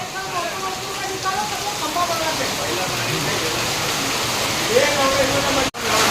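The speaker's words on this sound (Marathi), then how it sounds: "फुल पाऊस आहे फुल पाऊस" Heavy rain pours in a dense, constant hiss, with voices faintly heard under the downpour.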